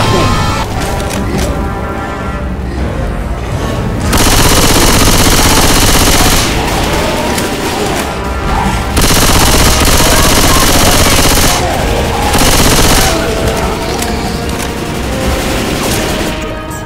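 Rapid automatic gunfire in the zombie shooter Left 4 Dead 2, loud and near-continuous bursts with short lulls, layered over game noise.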